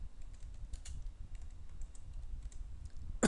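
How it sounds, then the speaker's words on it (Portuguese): Quick, irregular keystrokes on a computer keyboard as a word is deleted and retyped in a word processor, soft and close, with one louder click at the end and no talking. "Eu vou apagar e digitar novamente."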